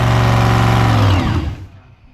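A supercharged Hemi engine in a pro mod drag car fires with a loud, close, throaty roar, then cuts off abruptly and fades out within about two seconds.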